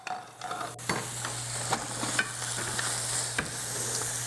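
Asparagus sautéing in a home kitchen pan gives a steady, moderately loud sizzle, with a few stirring scrapes and clicks breaking through, and no voices.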